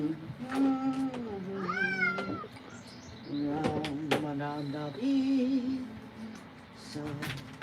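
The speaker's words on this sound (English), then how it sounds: "2 cats in a tub" Short-haired cats meow repeatedly during a bath in a tub, rising and bending yowls that come in bursts with splashing and a voice talking between them.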